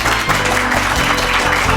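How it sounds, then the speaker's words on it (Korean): A studio audience claps loudly and steadily, a continuous burst of applause welcoming a guest onto a Korean television talk show set. "큰 박수로 맞아주십시오."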